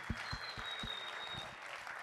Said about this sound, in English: let's give her another round of applause just for coming here today